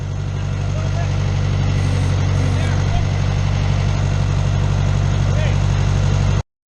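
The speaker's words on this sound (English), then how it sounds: "the tractor took a little getting used to drive it, but it sure beats lifting these walls up by hand" Diesel tractor engine idling steadily and loudly up close while lifting framed walls at a hilltop shop build, a constant low rumble throughout.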